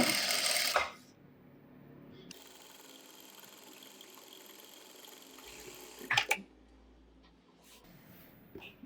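A sewing machine stitching piping onto a blouse puff sleeve gives a short burst of rapid stitching, falls to a faint hum, then makes another brief run, quiet and close.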